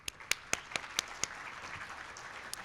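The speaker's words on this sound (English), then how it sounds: "If you could join me in welcoming him with applause to the stage." Sparse, quiet applause welcoming a guest speaker to the stage: a handful of crisp individual claps at a steady pace, fading into faint room noise before one last clap.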